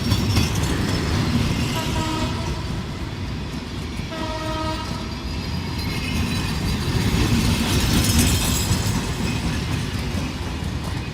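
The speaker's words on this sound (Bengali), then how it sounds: "থুরুপাত চলে গেল রাজশাহী থেকে ছেড়ে আসা ঢাকা অভিমুখী মধুমতি এক্সপ্রেস ট্রেনটি" A Modhumoti Express with a new Inka rake, running from Rajshahi toward Dhaka, thunders through a railway station with a loud, steady rumble and clatter of wagons, while its horn sounds in two separate blasts.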